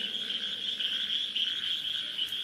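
A continuous night chorus of croaking frogs and chirping crickets outdoors, an even, unbroken drone of calls that stays steady from start to finish without talking.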